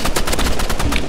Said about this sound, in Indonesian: Kita ganti assault rifle ya.